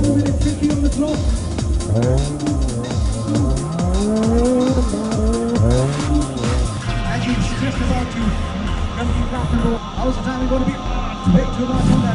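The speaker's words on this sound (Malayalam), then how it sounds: "ഒരു നിശ്ചിത സ്ഥലത്തു മാത്രം ഡ്രൈവ് ചെയ്യുന്ന മത്സരം" Autocross race cars run on a closed course, engines revving and rising in pitch with a series of sweeping tone changes and tire squeal, loud and close, with some talk over the engine noise.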